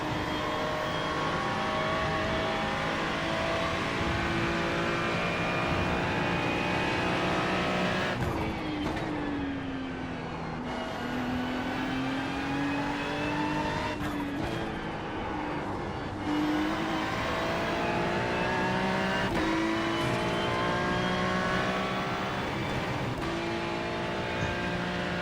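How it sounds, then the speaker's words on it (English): In a racing video game with GTP and GT3 cars at the Nürburgring Grand-Prix circuit, the player's car engine drones at high revs while a faster car's engine rises, overlaps and passes, with shifts and pitch swings throughout. "There's a faster car approaching."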